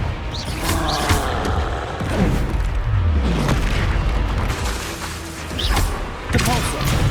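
Repeated booming blasts from the Confringo fire spell in the Hogwarts Legacy video game, heavy thuds and rumbles in the middle of busy combat noise, with a few short spoken incantations mixed in.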